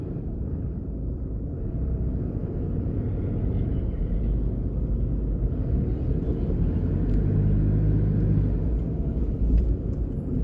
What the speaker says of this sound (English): There we can see a car cutting the line of traffic.